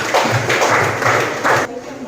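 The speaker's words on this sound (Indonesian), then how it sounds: "tepuk tangan dulu untuk temannya" Classmates in a school classroom clap briefly for a peer after an answer, a short burst of close, uneven hand claps that stops abruptly near the end.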